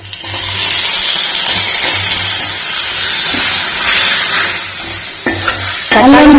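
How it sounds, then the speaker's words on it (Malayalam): Garlic sautés in a pan for tomato rasam, a steady close sizzle with scraping spoon strokes stirring it, growing slightly louder at the end as more goes in; no one speaks. "നല്ലോണം വാടി വരണം അല്ലേ"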